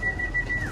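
A single steady whistling tone with a slight downward bend at the end, faint over a low rumbling background; pigeons cooing.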